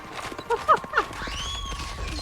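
Horse hooves clip-clop in a short run of beats amid steady game ambience in the video game Ōkami, followed by a rising synthetic whoosh.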